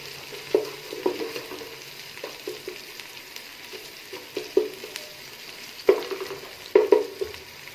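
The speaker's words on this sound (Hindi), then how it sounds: "अदरक लहसुन जब हमारा अच्छे से सौटे हो जाएगा" Ginger and garlic sauté in a pan for restaurant-style chicken vegetable fried rice, a soft steady sizzle broken by scattered sharp clinks and scrapes of a spatula stirring against the metal.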